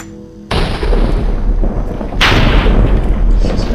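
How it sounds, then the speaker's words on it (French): Loud booming blasts in a Minecraft game, a sharp onset followed by sustained rumbling roar, then a second heavier burst that swells and continues to the end. "Pourquoi il y a des explosions comme ça là?"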